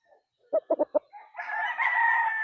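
A rooster on a gamecock farm gives a loud, close crow: four sharp staccato notes, then a long sustained drawn-out call.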